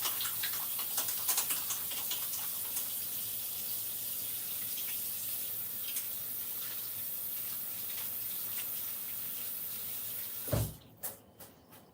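Tap water runs in a steady hiss as hands are washed at a sink, a continuous close wash of sound with faint clicks, then the flow stops abruptly and a few knocks follow.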